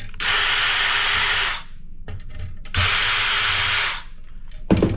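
A power driver spins out Torx screws from scrap electronics with an aluminum chassis, in two loud whirring bursts of over a second each, separated by quiet handling clicks.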